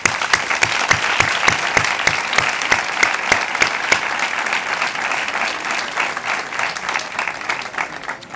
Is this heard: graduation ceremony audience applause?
yes